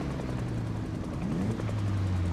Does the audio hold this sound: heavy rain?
no